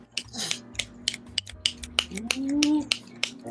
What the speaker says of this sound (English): that was a snap during the poem and clap afterwards